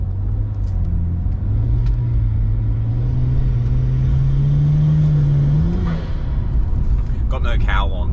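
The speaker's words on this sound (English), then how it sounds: "these turbos, they don't really make any boost, they make a lot of noise" Turbocharged BMW E90 car driving with no cowl fitted, a loud steady engine drone with a rising whine as it accelerates, heard from inside the cabin.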